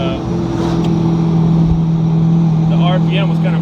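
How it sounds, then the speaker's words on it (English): A C6 Corvette engine idles loudly nearby with a steady hum and slightly uneven, wavering revs as the idle breaks up; a brief squeak of another sound rises late. "RPM was kind of breaking up a little bit."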